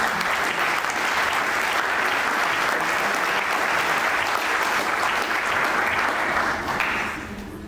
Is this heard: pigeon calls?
no